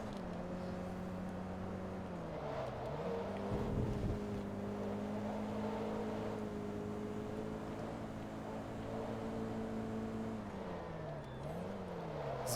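Race car engine in Forza 2 drones steadily at mid pitch throughout, dipping briefly as it downshifts and re-accelerates around corners, loud and close with no talk over it.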